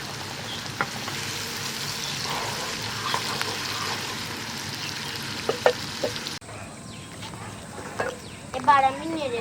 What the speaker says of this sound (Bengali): এবার আমি নেড়ে নেবো।